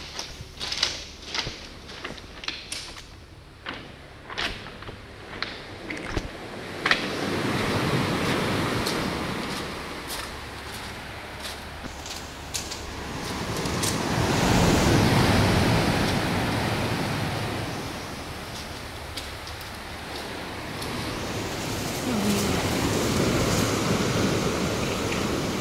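Sea waves wash and surge at Cape D'Aguilar marine reserve, a broad rushing roar rising and falling in slow swells, with wind buffeting the microphone and a few sharp knocks early on.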